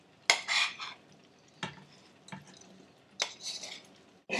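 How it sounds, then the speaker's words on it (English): A spoon stirs minced meat and potato mixture in a pot in several separate scraping strokes with short pauses between them, close and moderately loud, with no talking. "Give this a nice mix."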